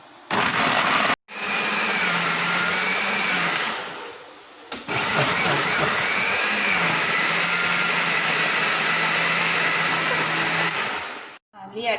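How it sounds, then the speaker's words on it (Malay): A blender roars loudly, grinding coconut flesh with water continuously for several seconds, pausing briefly, then running again in a long steady whir. "Kita akan blender isi kelapa ini sehingga hancur dan halus ya."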